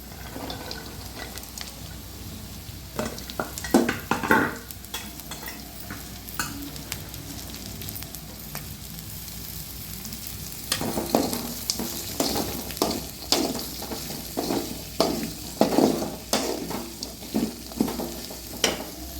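Beans and carrots sautéing in a pan in a home kitchen, with a steady soft sizzle and repeated stirring scrapes and clatters of a spoon against the pan, louder bursts of stirring toward the end.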